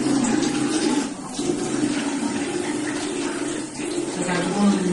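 Running tap water splashing over dishes being washed by hand in a kitchen sink, a steady rushing flow with brief dips, under ongoing conversation.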